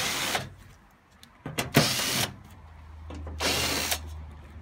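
Screws being backed out of the silver rear panel of a Hotpoint Aquarius Extra WMA40 washing machine with a screwdriver, giving a few short ratcheting, grinding bursts close by with quiet pauses between them.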